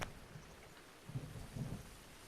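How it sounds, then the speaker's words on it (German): Thunder and rain in the Zelda: Breath of the Wild video game, a faint steady hiss of rainfall with two soft low rumbles of thunder rolling in midway. "Donner und Blitz, was für ein Witz. Ne, im Gegenteil, eben ist es halt die ganze Zeit plus Regen."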